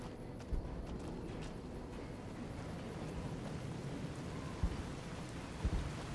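Steady rain pours throughout a stormy scene in the video game Fallout New Vegas, with a few brief low thumps of thunder breaking through the constant hiss.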